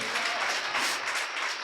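A church congregation at a Sunday service claps loudly and steadily, a dense, continuous wash of applause filling the space with no voices rising above it.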